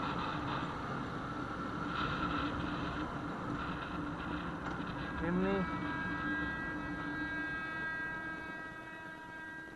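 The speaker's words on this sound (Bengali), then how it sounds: "ওই যে মালগাড়ি ট্রেনটা আসছে" Freight train approaching a crossing near a railway station in Purulia, West Bengal: a low, steady rumble with a brief wavering horn-like tone midway and a voice speaking over it.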